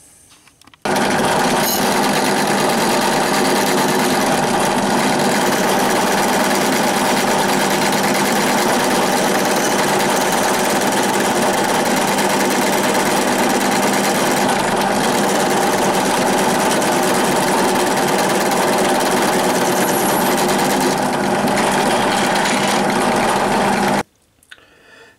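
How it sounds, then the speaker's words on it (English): A drill press reaming metal with a 3 mm reamer runs with a steady, loud mechanical whir for most of the stretch, starting and stopping abruptly, with no talking. "And ream him in the drill press."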